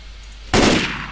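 A single short, loud burst of gunfire in the video game Left 4 Dead 2, a sharp blast that decays quickly over low background hum.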